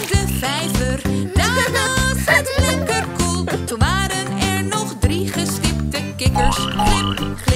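Cartoon frogs croak in rhythmic bursts over a bouncy Dutch children's song about spotted little frogs sitting on a tree stump, the croaks loud and steady with the music throughout.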